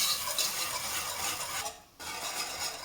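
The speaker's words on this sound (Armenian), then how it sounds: "շարունակում ենք արագ խառնել" Melted butter, honey and sugar with baking soda are stirred briskly in a pot, giving a continuous scraping, fizzy hiss with a brief pause before stirring resumes.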